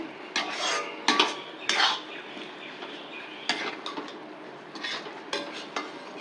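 Dosa stuffing being stirred in a pan over a high flame, with utensil scrapes and clinks against the metal in irregular bursts, close and moderately loud, with no talking.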